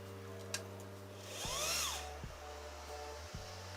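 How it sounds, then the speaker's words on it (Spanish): A small sewing machine motor, freshly reconnected after a foot pedal repair, whirs steadily and loudly, speeding up and slowing in several surges, with brief clicks as it starts and stops. "Metemos el motorcito, metemos corriente y probamos."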